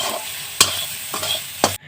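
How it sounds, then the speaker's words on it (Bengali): Marinated soybean chunks fry in hot oil while a spatula stirs them, giving a steady close sizzle broken by three sharp scraping strokes against the pan before the sound cuts off. "সয়াবিনটা আমি তেলের উপরে দিয়ে দেবো। এরপর খুন্তি দিয়ে নেড়ে চেড়ে নিতে হবে।"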